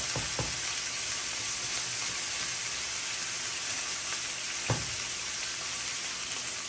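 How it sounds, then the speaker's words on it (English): A sirloin steak sizzles steadily as it pan fries in a pot, a constant close hiss with a couple of brief pops and scrapes. "I'm gonna pan fry this steak for 20 minutes"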